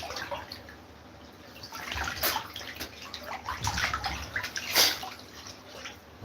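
Water sloshing and splashing around a swimmer surfacing, close and uneven with gurgles and drips, swelling louder in the second half with a bright splash near the end.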